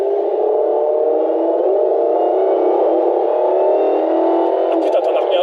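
A Dodge Challenger Hellcat with 707 hp and rear-wheel drive accelerates hard, its loud engine holding a steady, strained roar with a whining edge, heard from inside the car.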